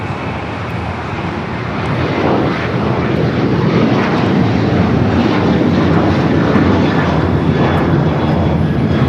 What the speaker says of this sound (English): This is Alaska Airlines 1360 taking off to Los Cabos on the 737-900ER